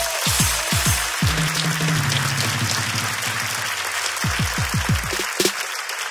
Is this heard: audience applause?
yes